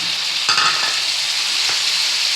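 Onion paste sizzling and frying steadily in hot mustard oil for a fish curry, a continuous close crackle with a brief louder burst and a few stirring scrapes, no voices.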